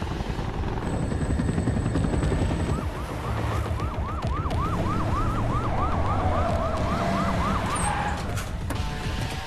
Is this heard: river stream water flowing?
no